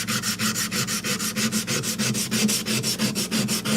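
A knife blade is hand-sanded with sandpaper in quick, steady back-and-forth strokes, each one a close, even rasping rub in a regular rhythm.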